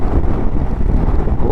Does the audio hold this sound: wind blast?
yes